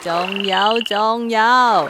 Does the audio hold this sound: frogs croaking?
yes